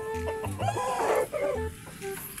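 Bantam chickens cluck and murmur close by in short, uneven calls, fairly clear with no talk over them.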